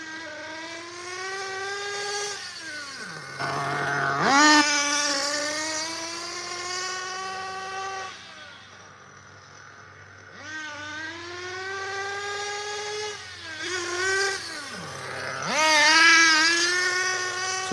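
A nitro RC car engine running rich at about half throttle, a buzzing, harmonic whine that holds steady, dips twice into a low idle and then climbs back up, loud and close with no talking.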